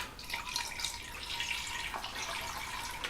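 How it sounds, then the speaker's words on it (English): Tap water runs steadily through a sausage stuffing horn held under a sink, a continuous close hiss and splash with no talking. "You'd put the horn under the sink and run the water through it to rinse it out."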